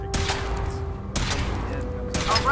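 A Fallout 4 gunfire volley: three heavy, booming shots spaced about a second apart, each trailing into a mechanical rumble, loud and close.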